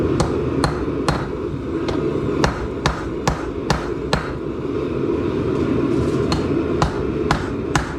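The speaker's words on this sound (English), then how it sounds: "Just go ahead and specifically hit right there on the blade. Work it all the way down the spine." A hammer strikes the spine of a knife blade on an anvil, giving a steady series of sharp, ringing metallic blows over constant background noise.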